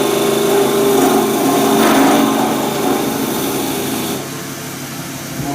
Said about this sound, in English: I'm actually using the skew as a scraper